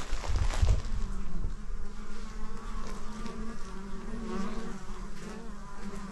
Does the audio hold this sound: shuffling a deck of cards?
no